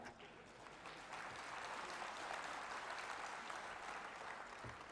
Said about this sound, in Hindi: मैं बेटियों से ज़रूर अनुरोध करता हूं कि आपकी तालियां बजनी चाहिए